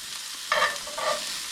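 Duck pieces browning in butter in a pan give a steady low sizzle, with two brief louder bursts of crackling spitting up partway through, no voices.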